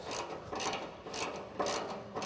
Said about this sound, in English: We're going to now tighten up the spring bolts, the eye bolts.